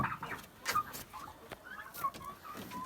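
Turkeys being fed cluck and gobble in short bursts close by, with soft pecking and rustling between calls, no talk.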